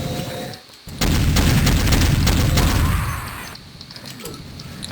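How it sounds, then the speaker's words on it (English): Sustained burst of heavy gunfire from a sentry turret in the Doom mod Immoral Conduct, loud and close, running about two seconds after a brief dip, then tapering off. "There's my sentry turret"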